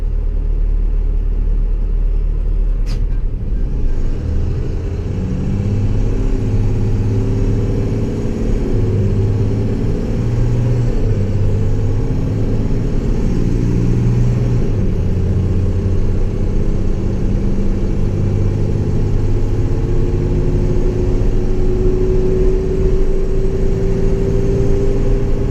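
Cummins diesel engine in an International Durastar truck pulling steadily under load while driving, a continuous low rumbling drone with a gradually rising pitch, heard inside the cab with no talking.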